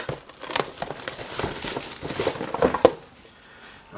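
Cardboard and plastic packaging crinkles and tears as a Star Wars Shatterpoint miniatures box is opened from its cut back, a steady close-up rustle with a few sharper crackles and no talking.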